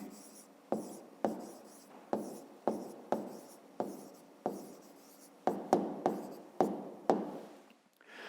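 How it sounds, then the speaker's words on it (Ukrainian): Pen strokes on paper while an answer is written down for a fifth-grade maths exercise, a steady series of about fifteen short scratchy strokes, close and fairly quiet, with no talking. "Записуємо тоді відповідь, пишемо відповідь."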